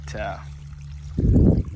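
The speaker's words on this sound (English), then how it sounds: "we're definitely flowing water again like we should be" Water pours and drains in a steady gush after a person speaks, loud and close, flowing through outdoor equipment.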